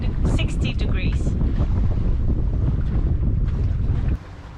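A sailboat under sail in 8 to 10 knots of wind with its fixed two-blade propeller out of gear, heard as a loud, steady rush of wind and water that drops off abruptly near the end.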